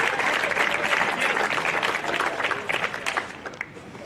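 Cricket supporters at a Twenty20 cup final at an oval applauding, a steady wash of crowd clapping that thins out toward the end, heard from a distance.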